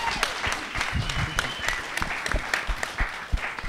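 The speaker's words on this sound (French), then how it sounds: "Oui, applaudissez-le, pardon, applaudissez-le." Audience at a live comedy show applauds, a dense steady patter of many clapping hands with a few sharper claps and some voices mixed in, fairly near and continuous throughout.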